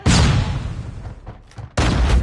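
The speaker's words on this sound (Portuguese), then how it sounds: "Watch out, flashbang!" A flashbang grenade explodes in a Call of Duty Mobile ranked match, giving a loud broadband blast with a ringing tail, and a second sharp burst follows about a second and a half later.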